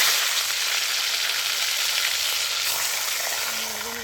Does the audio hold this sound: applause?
no